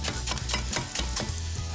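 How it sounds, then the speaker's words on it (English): A big knife chopping rhubarb on a board for rice pudding, giving a steady run of close, sharp chopping thuds at a brisk rhythm with no talking. "Let's do one more because we like to see some chopping."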